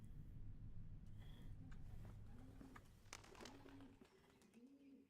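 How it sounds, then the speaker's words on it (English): Pigeons coo in a dovecote room in the video game Blue Prince, a few soft rising-and-falling calls over a low droning game ambience, with light chirps scattered throughout. "Hello, birds. It's me."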